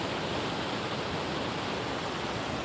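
A broad, even roar of falling water rushes at the foot of Yongchu Falls, a steady dense wash with no pauses or voices over the short stretch.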